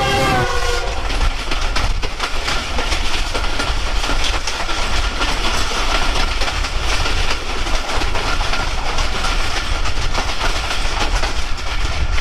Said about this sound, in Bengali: এই কারণে আমি যে দেশেই যাই না কেন, লোকাল ট্রেন, এক্সপ্রেস ট্রেনগুলো ভ্রমণ করি।